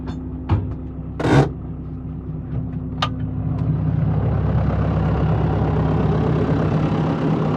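Claas Ares 567 ATZ tractor with a front loader and a 115 hp John Deere engine, a steady low diesel rumble that rises and holds, with a few clicks and knocks at the start.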